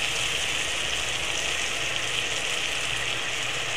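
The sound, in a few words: onion and tomato frying in a pan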